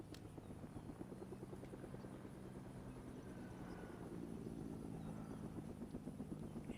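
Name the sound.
helicopter flying in Fortnite video game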